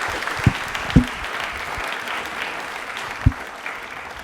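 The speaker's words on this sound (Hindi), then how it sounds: "प्लीज एक बार जोरदार तालियां हो जाए" A crowd applauds steadily at an event at UEM Jaipur, many hands clapping together at moderate volume, with a few sharper thumps mixed in.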